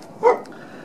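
A junkyard dog lets out a single short bark, fairly close, with a faint second yip just after it over soft outdoor background noise.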